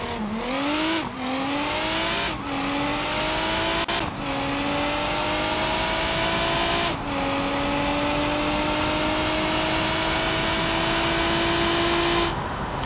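A tuned car makes a drag run in BeamNG.drive, its engine revving loud and close through repeated upshifts, each gear climbing in pitch before a brief dip, then holding one long high pull, with no talking.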